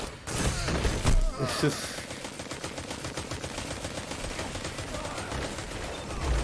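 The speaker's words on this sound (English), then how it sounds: "What is he firing that has that many bullets?" Rapid gunfire rattles almost continuously in Destiny 2, a dense stream of shots with a heavier burst near the start.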